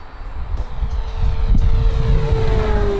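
An H-King FG-1 Corsair electric RC plane, EPO foam with a 990mm wingspan, makes a full-throttle low pass, its motor whine rising loud and steady, then dipping in pitch as it goes by, with wind noise on the microphone.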